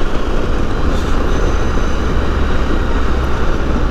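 A sport bike screams past at over 100 mph, a loud dense roar that stays strong and steady for a few seconds with no talking.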